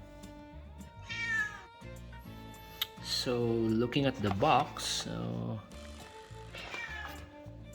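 A pet cat meows repeatedly indoors, several drawn-out, wavering cries up close, with a person talking briefly between and over them.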